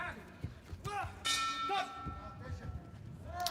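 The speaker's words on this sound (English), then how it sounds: "Bell goes at the end of round one." A boxing ring bell sounds at the end of round one at a youth world championship bout, a clear ringing strike amid crowd noise and commentary.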